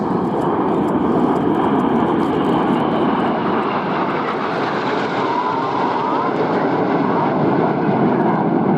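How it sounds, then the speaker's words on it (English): A Red Arrows jet aircraft roars steadily overhead during an air display, a loud broad rushing engine noise that swells slightly mid-clip as it passes. "Here comes a lone jet."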